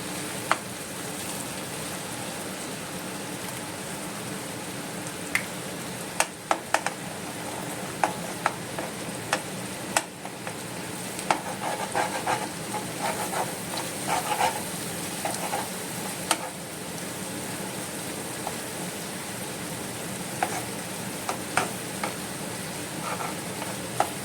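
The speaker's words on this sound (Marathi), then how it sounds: "हें मातशें आतां भाजती" Food frying in a pan in a home kitchen while being stirred: a steady broadband sizzle runs throughout, with scattered sharp clicks and scrapes from the utensil against the pan, close and moderately loud, with no talking.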